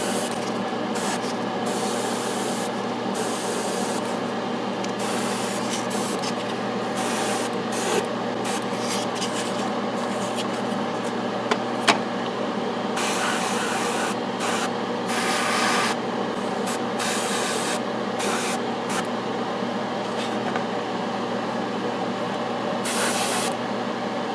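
Spray primer hisses onto a plastic Dropzone Commander miniature model in short close bursts of varying length with brief pauses between, over a faint constant background hum.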